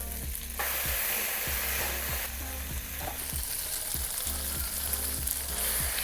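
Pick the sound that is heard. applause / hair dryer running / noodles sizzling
noodles sizzling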